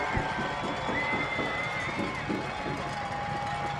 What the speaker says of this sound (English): Crowd is up making noise.